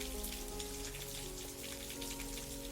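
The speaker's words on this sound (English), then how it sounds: "And it's really starting to rain now." Steady rain falls with dense, close raindrops pattering continuously over a soft tonal music bed, with no voices.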